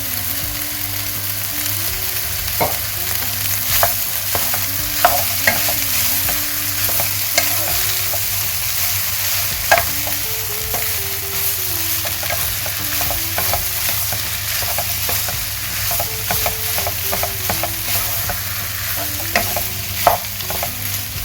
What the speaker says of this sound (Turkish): güzelce haşlayıp soğuttuktan sonra küçük küçük kıydığım patatesleri de koyuyorum.